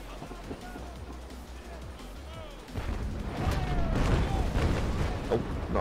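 Ship cannon fire in the naval sailing-warship game Naval Action: low rumbling booms that swell into a dense, heavy barrage from midway on.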